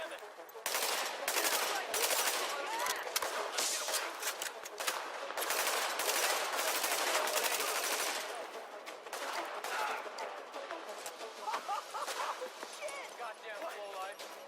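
Machine-gun and rifle fire rattle in repeated sharp bursts in the shooter video game Tom Clancy's The Division, loud and steady through most of the scene, with radio chatter and combat voices talking over it.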